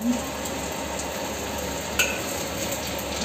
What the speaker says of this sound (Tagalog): Nagpa-fry tayo ng potato.